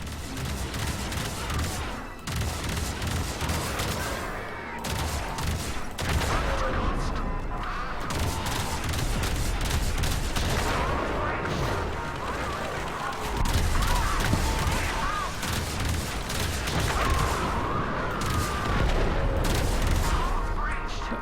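Sustained ship gunfire from gunners in the video game Warframe, a dense continuous barrage of shots and booms layered with game music and effects, loud throughout with no clear pauses.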